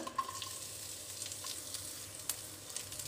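Mustard seeds, urad dal and curry leaves fry in hot oil for a tempering, a soft continuous sizzle with light scattered pops and stirring clicks, fairly quiet and without talk.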